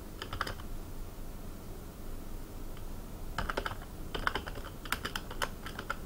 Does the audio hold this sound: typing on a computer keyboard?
yes